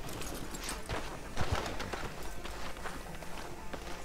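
Horse hooves clip-clop at a walking pace in the Red Dead Redemption 2 game, steady and fairly close amid town ambience and light bird chatter, with no talk over them.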